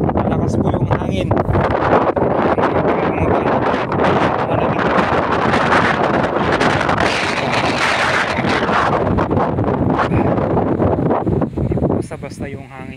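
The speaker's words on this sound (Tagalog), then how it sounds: "Malakas po yung hangin." Strong gusting wind roars across the microphone on Mt Balagbag, a loud continuous buffeting rush that fades slightly at the end, with someone speaking over parts of it.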